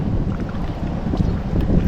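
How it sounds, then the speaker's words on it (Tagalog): Strong wind roars continuously across the microphone on a small boat out on the water near a river mouth while gathering mussels, a loud, dense rumble throughout. "Ang lakas ng hangin."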